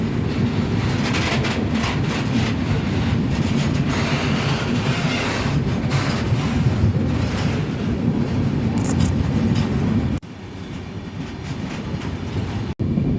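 A goods train of tank wagons rolls past alongside a moving passenger express, giving a loud, steady rumble and rattle of wheels that runs continuously and then drops off abruptly near the end.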